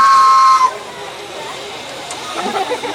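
A miniature railway steam locomotive, built for the Dreamland Miniature Railway in Margate, sounds a loud, sharp whistle for about half a second, followed by a hissing outdoor background with people talking.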